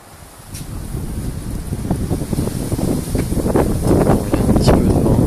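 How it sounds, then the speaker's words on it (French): Wind buffeting a Samsung Galaxy Note phone microphone outdoors, a rough, gusty rumble building in strength over several seconds, loud and close. "il y a un petit peu de vent"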